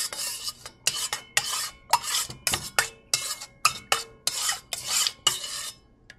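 A spoon scrapes and stirs a thick Premier Protein vanilla eggnog mixture in rhythmic strokes, with about a dozen rasping passes against the container, close and fairly loud and with no talking.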